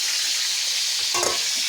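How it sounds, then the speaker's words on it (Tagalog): Freshly caught fish fry in a pan with a loud, steady sizzle throughout, briefly stirred or shifted partway through. "Hindi ako magaling magprito"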